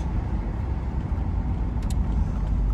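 A Chevy car driving on the road after a front wheel alignment. Steady road and engine rumble from inside the cabin, low and continuous, with no talking.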